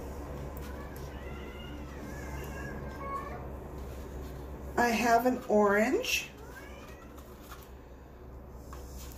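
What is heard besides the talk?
cat meowing in the background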